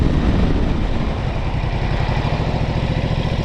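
A Ducati Multistrada motorcycle engine runs steadily at close range, a dense, even mechanical rumble with a fast regular pulse that holds throughout with no voices.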